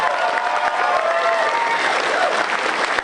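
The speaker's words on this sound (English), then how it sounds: "So please give these guys a round of applause." An audience at a film screening for the European premiere of Hobo With A Shotgun gives loud, sustained, dense applause, with a faint crowd murmur and a few whistle-like tones mixed in.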